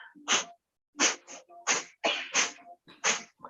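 Rapid forceful exhalations through the nose during a breathing exercise, about eight sharp puffs in quick irregular succession, close and loud with brief silent gaps between bursts.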